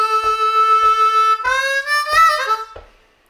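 A harmonica in D, played in second position in A, sounds a lick. It opens with a held draw note and ends with bending, sliding phrases, while faint foot taps keep the beat underneath.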